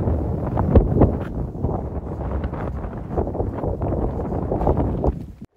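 Strong wind blowing across the microphone on a high mountain ridge near wind turbines on Hambaeksan, heard as a heavy, rumbling, gusting roar that surges and fades before cutting off.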